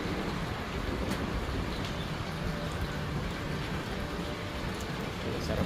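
Heavy rain with wind near Tagaytay, a dense even hiss of falling water with faint scattered drops, fairly quiet and steady throughout.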